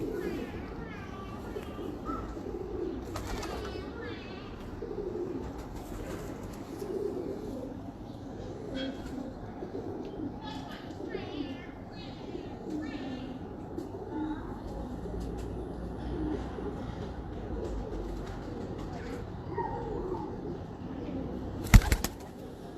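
Pigeons coo repeatedly on a Lahore rooftop loft, a low rolling murmur running throughout with occasional chirps and a brief wing flap near the end, while people talk nearby.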